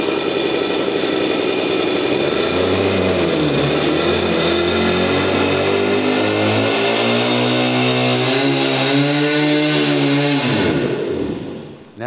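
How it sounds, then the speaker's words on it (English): An old two-stroke motorbike engine runs loud and close, its pitch rising and falling with revs before the sound cuts off near the end. "Well, you got a bike running."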